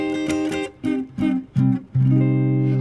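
A minor triad is played a few times in short, separate strikes, then held and left ringing at the end, close and clear with no voices.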